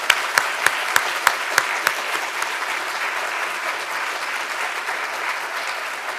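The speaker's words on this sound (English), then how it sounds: "Shall we give them a big round of applause?" An audience at a university public lecture claps for the Médecins Sans Frontières laureates of the Lui Che Woo Prize, starting with a few sharp loud claps and then spreading into steady, even applause from the hall.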